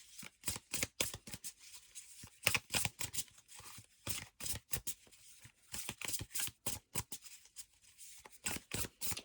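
Thick oracle cards being shuffled by hand in quick, rhythmic riffling bursts, close and fairly quiet, with short pauses between passes and no talking.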